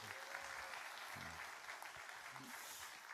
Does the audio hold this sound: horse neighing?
no